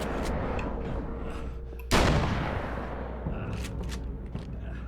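A flashbang grenade goes off in the video game Alan Wake's American Nightmare: one sudden, loud, full-bodied bang that fades over a couple of seconds above a steady rumble of game noise.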